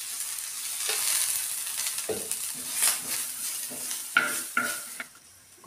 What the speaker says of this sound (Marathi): ह्याला पण व्यवस्थित परतून घेऊया. थोडंसं तेल टाकूया.